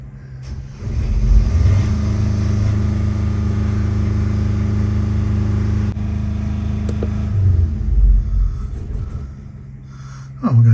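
A Yanmar 4JH45 marine diesel engine runs with its covers off, a loud, steady, close-up clatter and drone that holds throughout, with a slight surge near the end.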